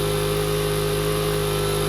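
A motorcycle engine revving at high RPM, a loud, steady, close buzzing drone with no pauses.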